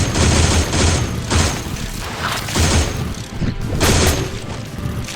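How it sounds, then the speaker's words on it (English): Loud, close bursts of 30 cal gunfire in the video game Ashes: Afterglow, several rapid fusillades with short gaps between them and impact crashes mixed in. "Wow, these guns just tear them apart. These 30 cal rounds."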